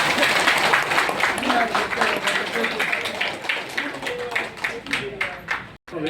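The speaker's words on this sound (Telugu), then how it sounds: "అందరూ బిగ్గరగా చప్పట్లు కొట్టిందా" A gathering audience claps loudly and steadily, a dense rolling applause with voices mixed in, fading briefly near the end before a few last claps.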